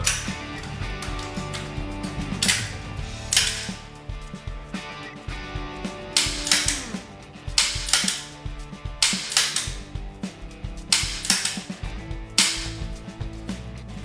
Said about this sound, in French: on travaille la vitesse sur permutation de chargeur, épaulé, acquisition de la cible et séquence